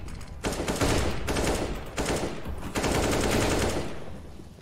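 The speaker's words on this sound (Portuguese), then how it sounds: "atira no meio da smoke" Dense rapid gunfire from a Counter-Strike (CS:GO) match, sustained automatic bursts filling the whole stretch at close, loud level with brief dips between volleys.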